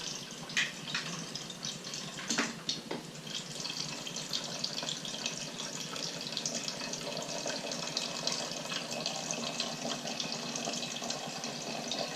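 Steady rushing of water pouring from a tap into a cup, continuous and hissy, with a few small knocks near the start.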